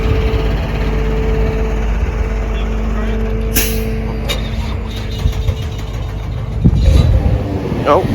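A Dodge Hemi Daytona Charger R/T with front-end damage cranks over, then catches and settles into a steady, close engine rumble with some mechanical clatter near the end.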